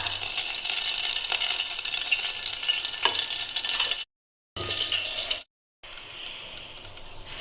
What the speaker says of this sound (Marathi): आता डाळ शिजले, डाळीला लगेच फोडणी देऊन घेते.